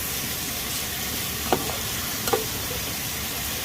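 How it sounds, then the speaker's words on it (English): Sausage browning in a pan gives a steady, even sizzle throughout, with a couple of brief clinks of a utensil stirring it partway through. "So we'll just brown up this sausage."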